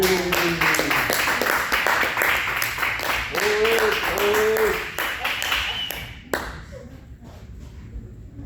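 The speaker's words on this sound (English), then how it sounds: "Can you please give Green Rabbit another round of applause?" Audience applause after a poetry performance at Mad World 2025, brisk clapping from a small crowd that thins out after about six seconds into scattered claps.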